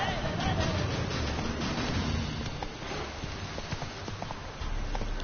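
Roach, the horse in The Witcher 3, gallops with rapid clip-clop hoofbeats over a rumbling background, fairly close and steady throughout the short stretch.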